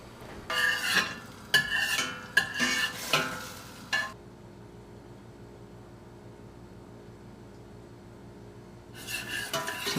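Half a stick of butter melts in a pan, with bursts of stirring and scraping over the first four seconds, then a quiet low sizzle before stirring resumes briefly at the end.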